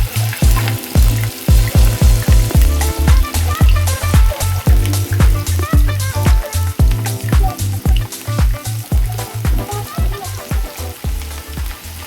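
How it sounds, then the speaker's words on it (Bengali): Onions frying in a pan until light brown give a loud, steady sizzle, with rapid rhythmic scraping of a spatula stirring throughout, close and without speech. "পেঁয়াজগুলো হালকা ব্রাউন করে ভেজে নিব।"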